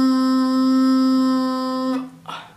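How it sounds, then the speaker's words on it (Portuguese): A single bagpipe drone reed, disconnected from its drone, sounds alone, a loud steady buzzing tone with rich overtones that cuts off after about two seconds, followed by a short breathy rustle. "Esse é o som do palhão desconectado do ronco."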